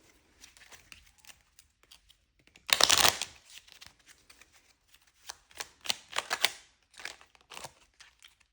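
Tarot-style cards being shuffled and handled during a card reading, with a loud riffle burst near the start followed by softer intermittent flicks, slides and taps of cards, close up and with no talking.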